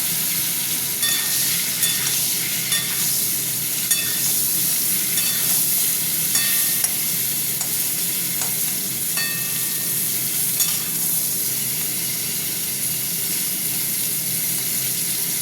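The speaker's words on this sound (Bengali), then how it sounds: "তেলটা গরম হতে থাক, ফুলকপিগুলো ভেজে নিই।" Steady crackling sizzle of cauliflower frying in hot oil, continuous and close, with occasional light clinks of a utensil stirring.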